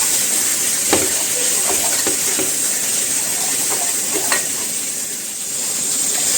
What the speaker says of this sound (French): ma viande est bien revenue avec mes oignons et mon ail